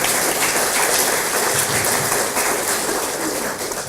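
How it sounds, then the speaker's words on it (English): Audience applause at a city news conference in Albuquerque, a dense, continuous, hissing patter of many hands that stays loud throughout and eases slightly at the end. "give yourselves a round of applause."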